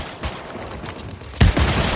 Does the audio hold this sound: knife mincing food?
no